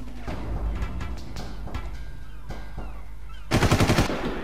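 Machine gun fire in the video game Far Cry Classic: scattered sharp shots echo early on, then a loud, rapid automatic burst of closely spaced rounds erupts near the end, with no talking.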